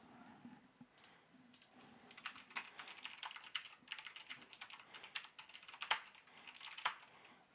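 Fingers type a wget command on a computer keyboard, a quiet close run of rapid key clicks in bursts after a brief pause, with no talking.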